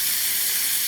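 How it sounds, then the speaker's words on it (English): Chicken sizzles in a hot skillet with a steady, close hiss of frying that holds evenly for a moment, with no voices over it. "We're going to put that in the skillet right now because I hear it sizzling."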